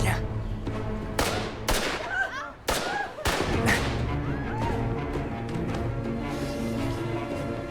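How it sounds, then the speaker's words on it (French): Several sharp gunshots crack in quick, irregular succession, followed by scattered shouting voices and commotion. "Ils ont tiré des coups de feu en partant."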